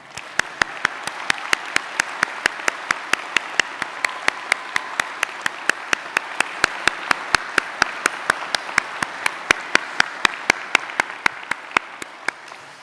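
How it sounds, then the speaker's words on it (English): Scattered applause from a graduation audience at a law school ceremony, individual claps sounding in a steady, evenly spaced rhythm throughout, moderately distant in a large hall. "I'm sure there's one more round of applause in lieu"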